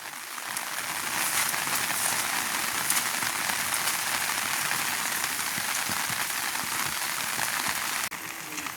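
Heavy rain pours down steadily in a village among leaning banana plants, a dense, even, close hiss of drops hitting surfaces that lasts throughout.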